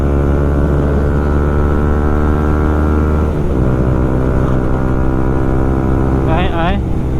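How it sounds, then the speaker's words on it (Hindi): Yamaha MT15 motorcycle with an Akrapovic full-system exhaust, a loud steady engine drone with rich harmonics, close up on a ride, with a brief rise in revs and a short voice partway through. "आज आप लोग को हम प्योर एग्जॉस्ट के साउंड सुनाने वाले हैं।"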